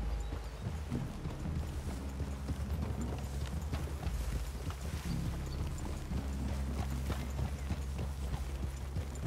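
Horses' hooves clip-clop steadily in Red Dead Redemption 2 as riders approach a clearing near a cabin, a continuous rhythmic plodding at moderate loudness over a low ambient rumble.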